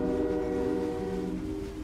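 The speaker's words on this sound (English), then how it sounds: "A lot of the freight trains that are out there" A freight train rumbling past with a sustained horn-like tone over heavy low-end rail noise, loud and close, with no talk.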